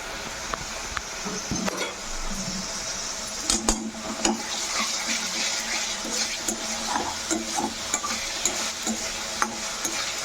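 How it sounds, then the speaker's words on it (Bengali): Spice masala mixed with poppy seed paste frying for Bengali fish curry, a steady sizzle with frequent spoon scrapes and clinks against the pan, close up and without speech. "খুব সুন্দর করে মশলা এভাবে ভেজে নেবেন"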